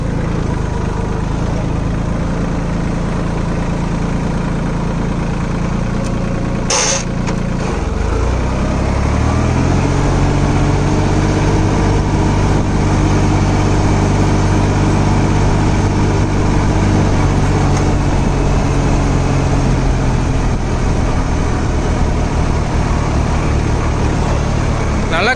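A Sonalika Tiger 26 HP 4WD mini tractor engine runs steadily throughout, its low drone shifting pitch about a third of the way in as the gears change, with a voice talking over it.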